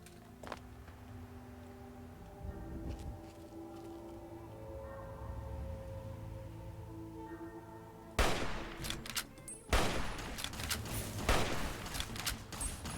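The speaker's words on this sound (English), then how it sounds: "They're shooting their flare guns at me." Enemy flare guns firing in Fallout 3, a few sharp loud bangs and bursts arriving suddenly after a quieter stretch of game ambience, with crackling tails between shots.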